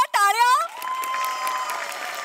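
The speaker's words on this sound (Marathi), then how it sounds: "सगळ्यात आधी समीर दादा एकदा जोरदार टाळ्या." Applause from a studio audience at a Marathi comedy show swells into a steady, loud wash of clapping that lasts about two seconds after a brief rising musical or vocal flourish.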